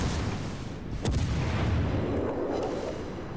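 Naval gunfire from a 15-inch battleship gun in World of Warships: a single heavy boom cracks out early, then a long rumbling roll of distant gunfire and low battle noise trails away.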